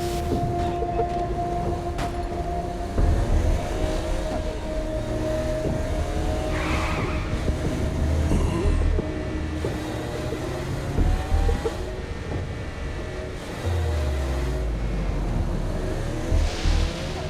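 Car engine driving in Saints Row: Gat Out of Hell, a steady loud motor drone with surges and revving swells throughout, no talk.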